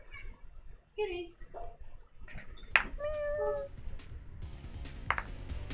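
A house cat meows a few times indoors, short rising and falling cries near the microphone while people talk and move around a tabletop game session.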